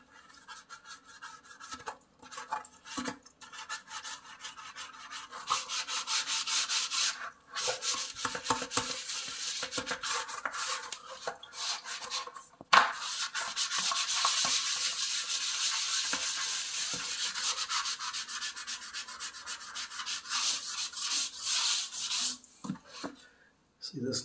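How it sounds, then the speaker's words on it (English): Crocs-style foam clog scrubbed back and forth over grimy, moldy bathroom tile as a cleaning hack, a steady close rubbing and scraping that runs almost continuously with brief pauses. "So what do you use to scrub all this nasty crap off your tile? Right here. Freaking Croc."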